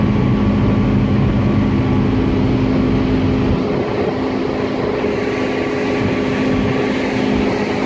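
A Four Winns H210 boat with a Volvo Penta 5.7 L GI engine, being run while its overheating is checked, cruises with a loud, steady low engine drone and hum, continuous and close, without pauses.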